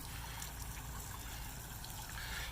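A portable washing machine in an RV drains its water, a continuous trickling, gurgling flow heard close and steady at moderate loudness, alone without talk.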